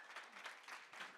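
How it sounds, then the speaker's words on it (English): Audience applause at a Pima Community College climate event, a brief, faint patter of clapping heard from a distance. "round of applause for that"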